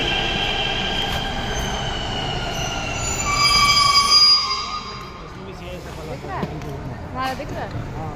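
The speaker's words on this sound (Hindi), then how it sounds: "फाइनली हमारे मेट्रो आ चुका है।" A metro train arriving at a station and pulling out again, its wheels giving a drawn-out high squeal that peaks and fades, over the steady low rumble of the cars, with no talking heard.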